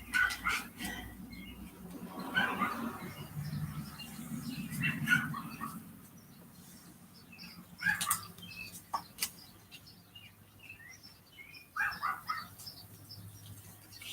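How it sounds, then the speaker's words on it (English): A neighbor's small yappy dog barks off in the distance, faint intermittent bursts of high yaps spread across the stretch with quiet in between, heard from indoors with no one talking. "Can you guys hear my neighbor's dog?"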